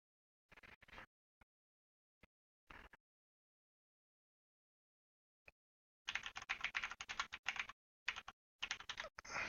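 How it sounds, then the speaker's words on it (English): Computer keyboard typing in short scattered bursts with silent gaps, then a quicker run of clattering keystrokes near the end, close and clear. "Oops, horrible typing."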